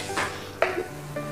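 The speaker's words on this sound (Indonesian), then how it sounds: "kasih kuat sedikit tuh api supaya dia mendidih, dan kita gaul dia" Pumpkin cooking in a pot is stirred over high heat, giving soft scraping and a few light knocks of the utensil against the pot, close by and alone over a faint simmering hiss.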